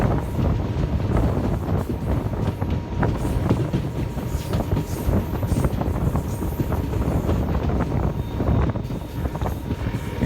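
A WDP4D diesel locomotive hauls a passenger train down a ghat section, with loud continuous rumbling and rhythmic wheel clatter from the carriages, mixed with gusty wind buffeting the microphone.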